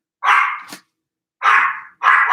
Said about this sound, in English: apologize that the video is a bit chaotic with my dog barking and stuff